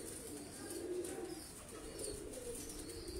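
Soft, low coos of a Sialkoti pigeon repeat in a gentle rhythm, faint and close, with light background hiss.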